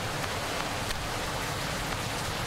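Steady, dense rain noise in the video game Farmer's Life, an even hiss of falling water with no pauses, fairly loud throughout.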